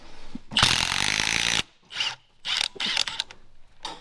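A ratcheting crimp tool clamps down on a cable terminal for a heavy-duty truck charging system: a sharp run of rapid ratchet clicks, then a few shorter clicking bursts, close and loud with no talking.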